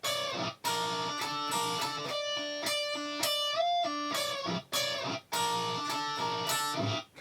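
An electric guitar plays a riff slowly, with clear, close picked notes ringing against an open string in a halting rhythm and brief gaps between phrases.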